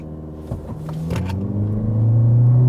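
A Toyota Corolla Cross hybrid accelerates, its low engine and drivetrain note rising into a steady, loud droning hum heard from inside the car.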